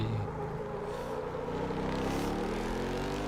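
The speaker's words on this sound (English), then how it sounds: "Because the engine is pretty noisy." A super truck's engine in the Automobilista VR racing game drones loud and constant, a rough low roar with rising pitch as it accelerates, no voices.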